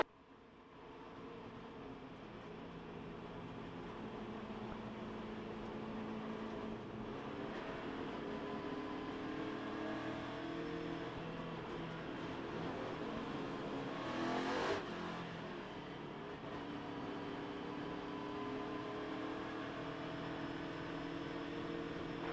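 NASCAR Cup Series stock cars race at Atlanta Motor Speedway, a constant roar of engines heard from inside a car, with a louder pass swelling briefly mid-run before settling back to the steady drone.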